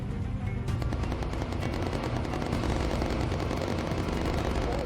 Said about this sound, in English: Quads are hitting him pretty hard.